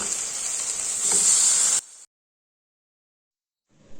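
Soy sauce and chilli sauce hit a hot pan during cooking of Idli Manchurian, giving a bright, hissing sizzle for about two seconds. It then cuts to silence, and a faint sizzle returns at the very end.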